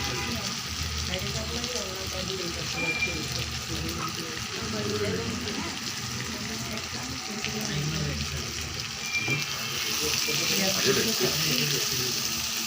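Onions, about 300 grams, sizzling in hot oil for a chicken filling, a steady crackling hiss throughout with a person talking over it.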